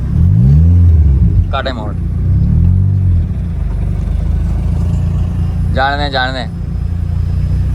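A car rolls along in second gear with a loud, steady low engine drone and rumble that swells briefly near the start. Two people talk over the engine noise.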